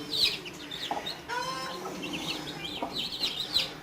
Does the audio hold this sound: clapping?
no